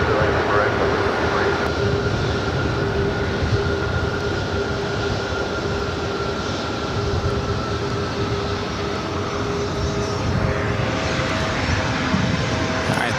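A jet airliner on approach to land at LAX, a continuous loud roaring engine rumble with a steady whine, broad and unbroken throughout.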